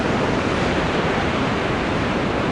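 Ocean surf washes continuously at the beach at Anglet, a broad, steady roar of breaking waves mixed with wind noise, loud and close with no talking.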